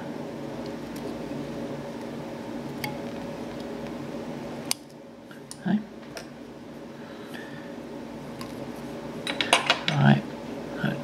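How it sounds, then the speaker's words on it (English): Scissors trim fly-tying material on a hook, close by, with a few small snips clustered near the end over a quiet background hum. "At this stage, we're going to trim the front part of this out."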